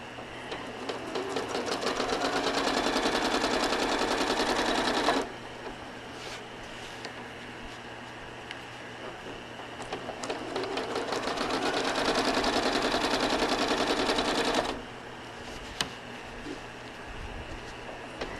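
A home sewing machine stitching during ruler quilting runs in two long, steady bursts of rapid mechanical whirring, each several seconds, separated by a quieter pause with faint handling clicks, close and loud.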